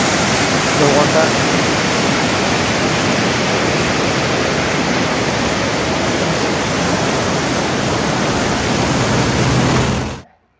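The Kali river at Dandeli, Karnataka, India, rushes past in a loud, dense, unbroken roar of flowing water that cuts off abruptly at the end.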